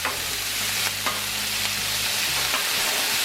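Parboiled home fried potatoes with onions sizzle on a hot griddle while a spatula chops and scrapes through them, giving a loud steady frying hiss with occasional sharp taps and a low hum underneath.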